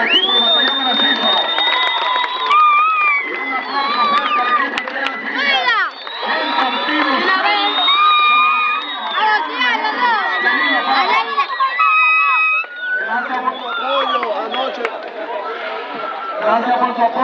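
Fans at a basketball semifinal game cheer loudly and continuously. A dense crowd roar mixes with shouts, whoops and chatter, and the cheering stays sustained throughout.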